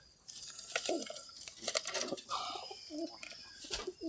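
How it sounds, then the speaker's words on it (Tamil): Homer cross pigeons in a cage coo in soft, throaty bursts, several close calls rising and falling, with faint rustling and fluttering between them. "வித்தியாசமாக இருக்குது இந்த புறா"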